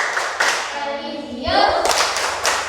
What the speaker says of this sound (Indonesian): mari kita melakukan tepuk PPK